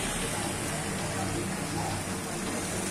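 Steady rain falling over the city of Cali at sunset, a dense, even hiss that fills the whole short stretch without pause.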